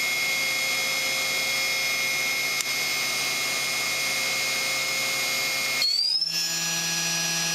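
Makino S56 CNC vertical machining center spindle running at speed, a steady high-pitched whine with a constant tonal hum; near the end the pitch briefly shifts and rises before settling again.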